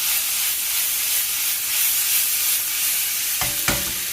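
Aubergine tossed in a hot frying pan gives a steady close sizzle and hiss, with a couple of short knocks near the end as the pan moves.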